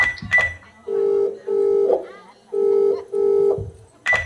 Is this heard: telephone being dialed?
yes